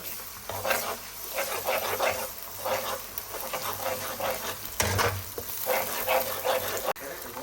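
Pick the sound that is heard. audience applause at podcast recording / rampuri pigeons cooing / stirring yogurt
stirring yogurt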